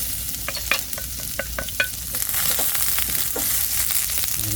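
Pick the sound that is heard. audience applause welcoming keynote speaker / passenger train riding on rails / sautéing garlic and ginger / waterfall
sautéing garlic and ginger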